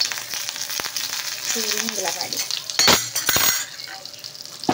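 Garlic crackles and sizzles in hot oil for a tempering, with sharp popping bursts over a steady fry and a brief clink; a voice speaks briefly in between.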